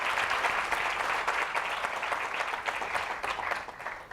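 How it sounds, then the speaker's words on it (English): Audience applause at a climate action summit, steady dense clapping from many hands, fairly distant and even throughout, fading slightly at the end. "you should clap for her"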